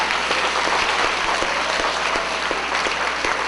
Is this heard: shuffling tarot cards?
no